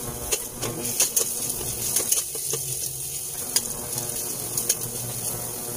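Ginger sizzles in a hot pan while it is being stirred. Bright crackling and popping run throughout, broken by irregular clicks and scrapes of the utensil, close up and with no talking.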